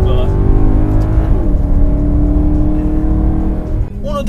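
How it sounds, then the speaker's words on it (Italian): A 2019 Maserati GranTurismo Sport with a naturally aspirated V8 drives along, its engine droning loudly and steadily with a slight shift in pitch midway, while someone talks over it. "Quella che sto guidando è la Maserati Gran Turismo Sport Model Year 2019."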